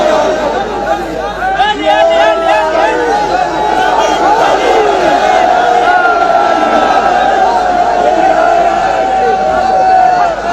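A large religious gathering chants the Ya Ali slogan with raised hands, a loud, dense wall of massed voices swelling and sustained throughout.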